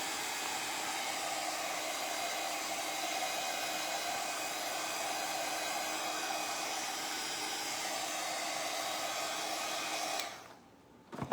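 A hair dryer blows steadily on wet painted coats of a bunny craft, a loud continuous whooshing hiss for about ten seconds before it cuts off abruptly.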